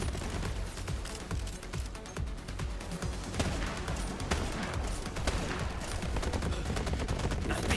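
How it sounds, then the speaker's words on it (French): Weapon fire in the video game Borderlands 3: dense, rapid bursts of shots and impacts roll on continuously, loud and cluttered throughout. "Je sais pas si je tire sur le bon"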